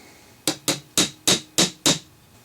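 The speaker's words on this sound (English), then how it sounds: "Note I'm using a non-marring brass hammer." Six sharp taps from a non-marring brass hammer on a Thompson/Center Contender pistol pivot pin, evenly spaced metallic knocks, close and loud with short ringing decay, no talking.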